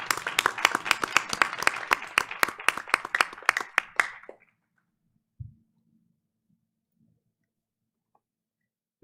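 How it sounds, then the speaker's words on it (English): A school board meeting audience gives a burst of applause, dense clapping for about four seconds that stops abruptly, followed by near silence with a single thump. "So let's give her a big round of applause."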